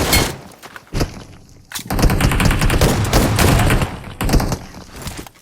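Rapid automatic gunfire rattles in a first-person shooter game, loud and close, with dense bursts of shots broken by brief pauses between sprays.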